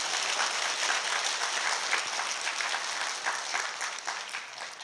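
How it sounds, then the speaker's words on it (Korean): An audience at a free investment lecture claps in a dense, even round of applause that stays steady for about five seconds, then eases slightly toward the end. "박수 한번 부탁드립니다"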